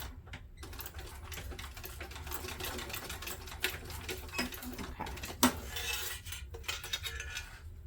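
Sewing machine top stitching backpack fabric, running in rapid mechanical bursts with brief pauses and small clicks between runs, close and fairly quiet.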